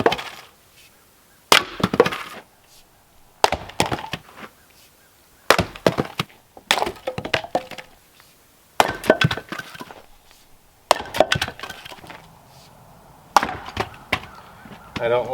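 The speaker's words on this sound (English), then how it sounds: "So what I'm busting up here is some red oak." Red oak firewood is split with sharp, loud cracking chops, about seven separate strikes spaced a second or two apart, each followed by brief woody rattling and clatter of falling pieces, outdoors and close.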